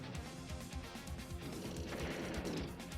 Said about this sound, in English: Tank on the anti-air, gets a good strike there.